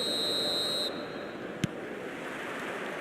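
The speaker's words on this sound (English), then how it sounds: "There's the whistle, and here we go." A single short, sharp referee whistle blast in an eFootball match at Old Trafford, heard after a steady high tone cuts out, over broad crowd-like noise.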